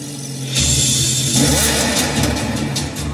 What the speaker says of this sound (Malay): That is the sound of the naturally aspirated V10